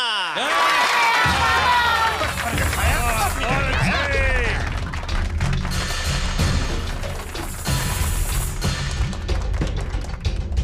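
An audience at a martial arts demonstration where an ice block is to be smashed cheers and claps amid a burst of sliding musical tones and thuds, with loud crowd noise and shouting continuing throughout.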